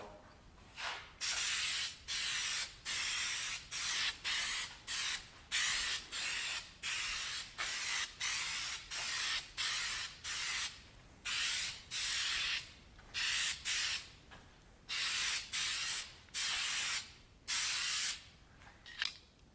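Aerosol tint sprayed in repeated short bursts onto Mustang Foxbody headlights, a steady rhythm of close, loud hissing blasts separated by brief pauses, with no talking.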